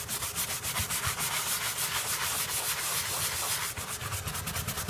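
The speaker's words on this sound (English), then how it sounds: "So I'm going to keep doing some more scrubs." Steady, rhythmic hand scrubbing of a rough surface with Bar Keepers Friend cleanser, brisk back-and-forth strokes continuing without pause, close and fairly loud.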